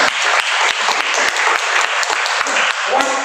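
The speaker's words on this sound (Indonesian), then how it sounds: "Ini tepuk tangan yang paling meriah." Lively applause from a church congregation fills the room, dense and loud throughout with sharp claps popping out, and voices are heard mixed in beneath it.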